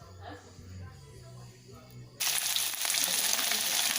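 Sliced sun-dried pork drops into hot oil and frying bursts in suddenly, a loud, dense crackling sizzle that keeps going, after a quieter stretch of someone talking over low background noise.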